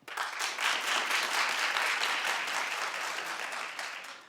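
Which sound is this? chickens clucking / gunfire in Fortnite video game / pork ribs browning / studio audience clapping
studio audience clapping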